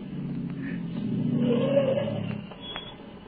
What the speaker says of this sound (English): And then I heard another sound on the road. There was a car coming.